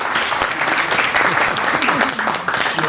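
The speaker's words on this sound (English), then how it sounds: "Let's give him a big, big round of applause." An audience at a community event breaks into sustained, dense applause, loud and continuous, with voices faintly mixed underneath.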